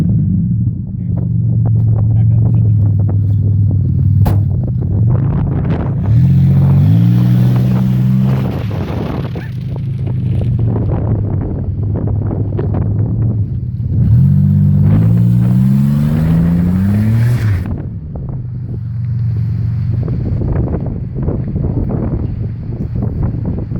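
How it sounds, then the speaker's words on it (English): A 2003 Buick runs with its muffler rotted off and no exhaust at all, giving a loud, raw hot-rod rumble that holds steady throughout, with two rising revs as the throttle is blipped; people talk over it. "So that's his 2003 Buick with the muffler rotted off."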